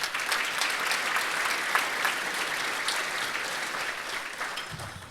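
A room full of people claps steadily for several seconds, a dense, even patter of applause that fades slightly at the end.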